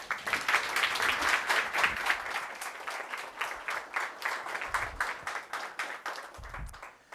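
An audience claps in warm welcome for Chief Cochran, steady applause starting full and gradually thinning toward the end, heard alone without speech.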